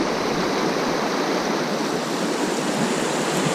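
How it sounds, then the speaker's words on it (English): An Alaskan river near Valdez rushes in a loud, steady, full wash of flowing water with no breaks, close by and alone, without voices. "I'm out here fishing this river"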